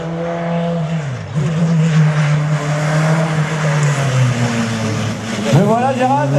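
Race car on a slalom course at a Saint-Lô event, its engine droning steadily with pitch swings as it revs and lifts through the gates, a sharp rising rev near the end, with a commentator talking over it.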